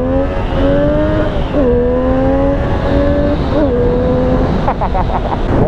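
Triumph Street Triple 765 S motorcycle with a 765 cc triple engine accelerating hard through the gears, a loud continuous rising engine whine with brief dips at each upshift.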